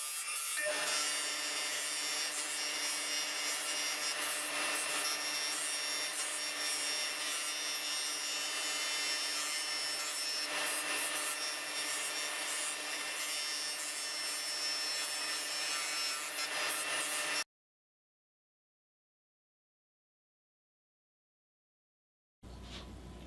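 Wood inlay strips with diamond and triangle patterns fed through a sander to remove burrs: a steady, loud grinding rasp runs unbroken for about seventeen seconds, then stops dead before a short burst returns at the end.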